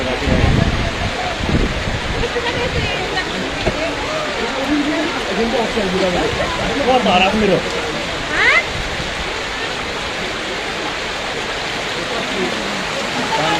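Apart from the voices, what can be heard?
heavy rain runoff water flowing down a road in Kurseong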